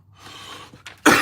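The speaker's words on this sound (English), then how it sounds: "I just got this damn nagging cough" A single sharp cough bursts out near the end, loud and close, after a brief softer throat sound.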